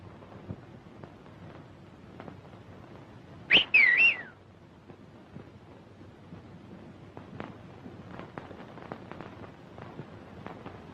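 A person whistles a short, bird-like warbling signal, a brief clear two-part call rising over faint outdoor wind and scattered ticks, then quiet ambience continues.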